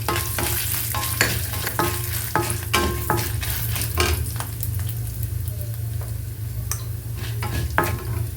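Coriander seeds, dried red chillies and spices fry and sizzle in a pan for an amla pachadi. A constant frying hiss sits under sharp stirring scrapes and clinks, and nobody talks.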